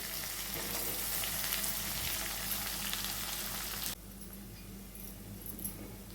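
Sliced onions with turmeric fry in a pan while cooking upma, giving a steady close sizzle that drops noticeably quieter partway through.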